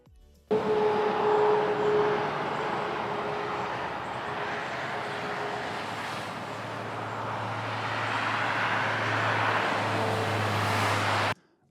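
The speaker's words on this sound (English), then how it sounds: "so it's traffic, it's very realistic" Continuous roar of passing road traffic, a broad steady rumble that swells slightly in the latter half.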